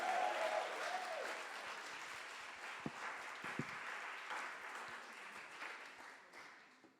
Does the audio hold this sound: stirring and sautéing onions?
no